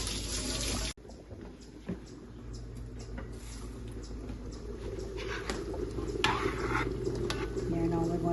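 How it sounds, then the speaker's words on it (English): Tap water runs steadily into a home kitchen sink as hands are washed during shrimp curry cooking, a close, even rush of flowing water with light splashing. "let me wash out my hands"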